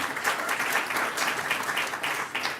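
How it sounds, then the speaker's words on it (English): Steady audience applause at an annual event for the John Howard Association, a prison-reform group, a continuous moderate wash of clapping throughout with little variation. "And you can clap for the John Howard Association because this work is being done."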